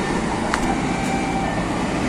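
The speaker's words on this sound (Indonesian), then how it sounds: "Ada kereta." A train rolls past near a road flyover as a loud, steady rumble and rush of wheels on rails. A faint squeal rises briefly partway through.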